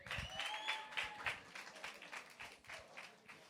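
A crowd applauds after the acting mayor is introduced at a festival opening, a steady patter of clapping at moderate distance with a faint voice briefly heard at the start.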